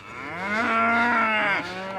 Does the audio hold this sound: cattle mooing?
yes